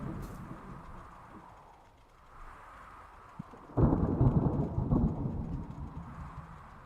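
Thunderstorm in the survival horror video game Dead Soil, a low rumbling roll of thunder that fades and then breaks into a louder, crackling burst over steady ambient noise, with no voices.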